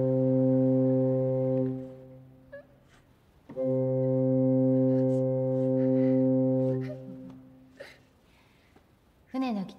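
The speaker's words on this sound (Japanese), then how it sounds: "船の汽笛で長い音2回は出発の合図。" A ship's whistle sounds two long, deep blasts in a row, loud and tonal with a short gap between them, signalling departure; faint voices follow afterward.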